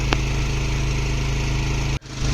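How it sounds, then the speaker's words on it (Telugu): A motor boat cruising on the fast-flowing Ganges at the Varanasi ghats: a steady, loud engine drone runs throughout and then cuts out sharply near the end. "బోటు ఒక రేంజ్లో తీసుకెళ్తున్నాడు బోటుని మాత్రం"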